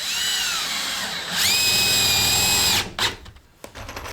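Cordless drill driving screws into wood floor blocking in a mobile home, a long high whirring run that ramps up, holds, then stops, followed by brief clatter and handling noise.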